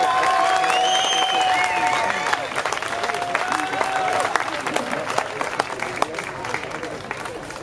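Applause from the crowd at an amateur boxing bout in Zeche Zollverein, Essen: steady, dense clapping mixed with crowd noise and voices that fades only slightly over several seconds.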